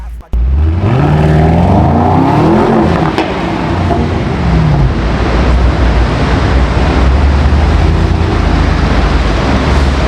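Mercedes-AMG GT55 V8 with a custom exhaust pulling away: a brief sharp start, then deep engine roar rising in pitch over a couple of seconds before settling into loud, steady rumble mixed with road and wind noise.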